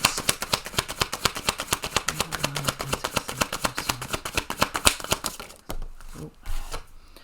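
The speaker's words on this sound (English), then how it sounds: "Let's pull another card for that because I'm really interested in this." A deck of tarot cards is shuffled in a fast, even run of crisp papery flicks for about five seconds, then gives way to a few softer, quieter sounds of cards being handled and drawn.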